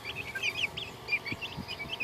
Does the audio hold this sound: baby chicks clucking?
yes